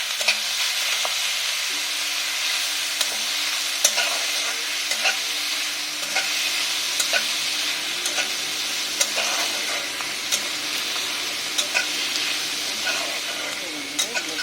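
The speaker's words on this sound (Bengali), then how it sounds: "আর এই সময় আমি চর্বিগুলো দিয়ে দেবো, যাতে চর্বিটা একটু ভাজাও হয়ে যায়" Goat fat and onions frying in a pan for ghugni, a loud continuous sizzle with repeated sharp spatula scrapes and taps of stirring, close up with no talking.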